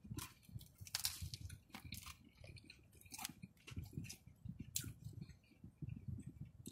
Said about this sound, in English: It has a satisfying crunch.